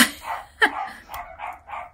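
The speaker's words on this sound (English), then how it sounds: "dogs are going to bark like mad" Dogs bark indoors in a series of sharp, separate barks of moderate loudness, several yips in quick succession with short gaps, no talking.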